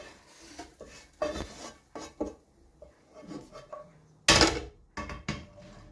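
Clattering and scraping of utensils against cookware, with soft wet thuds as ash reshteh ingredients are scooped and dropped into a large pot, ending in a louder clank.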